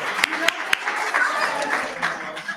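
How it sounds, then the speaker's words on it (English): An audience at a school staff recognition event applauds steadily, a dense wash of many hands clapping with a few sharper close claps standing out, continuing throughout. "Your hands are going to get tired from clapping."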